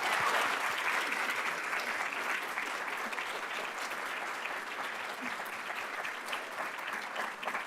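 Audience applause at a business school awards ceremony, a sustained, even wash of many hands clapping in a hall, steady in loudness for several seconds.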